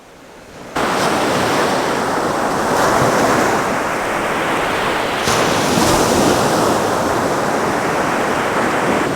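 Ocean surf breaking against a coastline, a steady loud roar of rolling waves with swelling surges around three and six seconds, heard alone with wind in the microphone.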